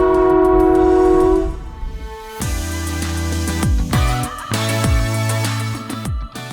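The Skunk Train sounds a long, loud multi-tone horn blast, then rumbles and clanks past with heavy low-end rolling noise and repeated wheel clatter.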